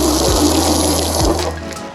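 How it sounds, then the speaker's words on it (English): Water sprayed from a hose or sprayer onto a car's graphene ceramic-coated paint gives a steady, loud hiss and splatter that lasts throughout and tapers slightly near the end. "now I'm just going to spray some water just to show you the coating that it provides onto the"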